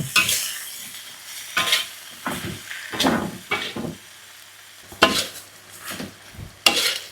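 Genjer (yellow velvetleaf) greens stir-fried in a pan, with repeated bursts of loud sizzling and scraping stirs at an uneven rhythm, close up and without talk.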